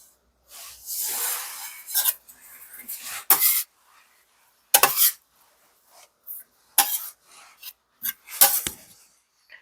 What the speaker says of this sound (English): I like to just loosen up the sides and allow it to come out of the bowl on its own